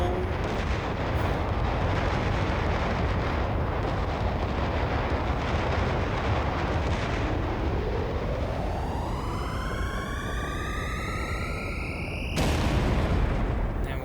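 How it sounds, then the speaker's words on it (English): Final boss Smithy's A-bomb explosion in Super Mario RPG, a long roaring blast of noise with a rising whistling tone sweeping upward, ending in a sudden loud burst, with a voice talking over it. "everybody died because he gave off an A-bomb explosion"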